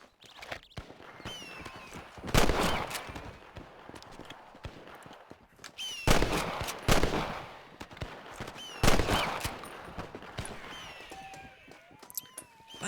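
Gunfire crackles during a bandit shootout in Red Dead Redemption, with three loud bursts of shots spread over several seconds above a busy game background of hooves and movement.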